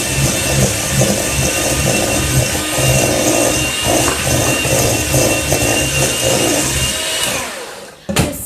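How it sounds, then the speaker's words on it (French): An electric hand mixer beats ingredients for a strawberry pudding with a steady, close whirring and rattling drone that runs without a break and cuts off near the end. "nous allons utiliser le batteur électrique"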